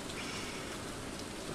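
Steady rain in the farming video game Stardew Valley, an even, continuous hiss of falling drops with no breaks, moderately loud and heard alone without any talk.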